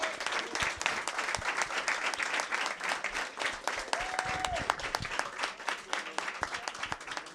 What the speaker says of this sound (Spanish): les voy a pedir el aplauso para Eli anticipadamente